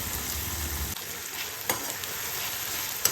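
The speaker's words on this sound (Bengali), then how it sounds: "ভাজ হচ্ছে তো" Fenugreek leaves frying gently in a pan on a low flame, a steady faint sizzling hiss with a couple of small clicks, close by and with no one talking.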